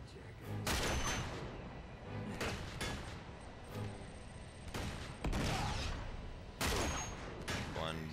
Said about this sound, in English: climb up here, grab this sniper rifle and just start picking them off.